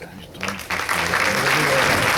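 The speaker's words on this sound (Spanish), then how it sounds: "todavía no he empezado para que me aplaudáis" Audience at a March 2023 conference talk breaking into applause, the clapping building quickly to a full, sustained round.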